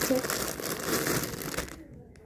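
A plastic package is torn open with a close, continuous crinkling rustle lasting under two seconds, then breaking off into near silence.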